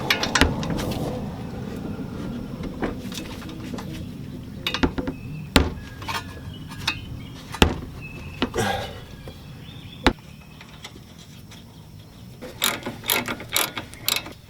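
A wrench ratchets nuts tight on a car's tie rod, close rapid clicking runs broken by pauses and sharp metallic knocks, with no talking.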